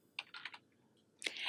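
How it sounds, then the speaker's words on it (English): A computer keyboard is typed on in a short run of quick keystrokes, a pause, then a firmer final press like the Enter key, close and fairly quiet with no talk. "I'm going to type in budget and then just click Enter to save."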